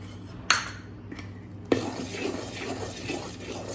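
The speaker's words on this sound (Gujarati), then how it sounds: "હવે આપણે બેસનને એડ કરી લઈશું." Gram flour stirred into a vatidal khaman batter with a spoon in a bowl: a sharp knock near the start, another at about two seconds, then steady wet scraping and sloshing, close and moderately loud.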